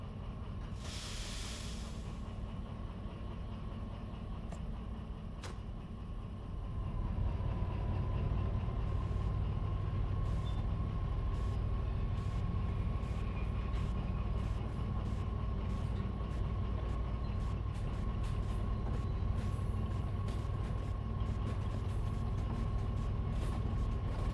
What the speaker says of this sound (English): I'm guessing that noise coming from the steam engine is okay.